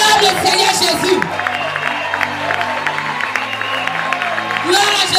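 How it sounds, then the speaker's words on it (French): A church congregation cheers and applauds to acclaim Jesus, with loud bursts of clapping and shouting at the start and end and a sustained crowd roar between them, over held keyboard chords. "Acclame le Seigneur Jésus."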